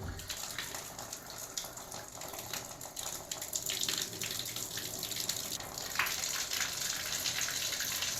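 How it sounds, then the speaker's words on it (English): Water rushes and sputters steadily from a newly installed bathtub and shower valve pipe with hissing, uneven bursts of trapped air, moderately loud and constant throughout. "there's probably going to be water and air coming out of here."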